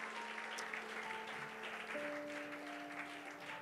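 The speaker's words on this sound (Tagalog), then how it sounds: "Palakpakan po natin ang Panginoon" Congregation clapping during a church service, a steady wash of applause at moderate level with sustained organ or keyboard tones held underneath throughout.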